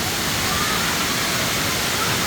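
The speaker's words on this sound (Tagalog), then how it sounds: "Kasi Kambal daw yung ilog nandun sa itaas. Kambal Busay Falls." Water pours down Kambal Busay Falls, a twin-river cascade, in a constant loud hiss and roar heard up close, steady and unbroken from start to finish.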